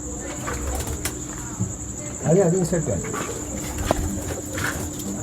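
Pigeons in a loft coo and stir, with a soft burst of wing flapping midway. Chirping insects ring steadily behind them, and someone talks over the birds.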